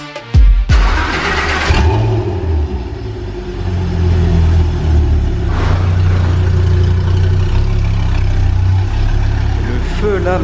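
A Frangivento sports car in Monaco gives a sharp burst as it starts, then settles into a steady, close, deep engine rumble that continues throughout, with voices in the background.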